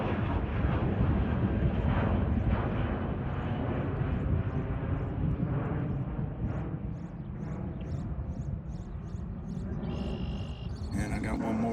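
A jet airliner departs the runway at Bozeman airport, its engines a loud continuous roar that slowly fades as it climbs away.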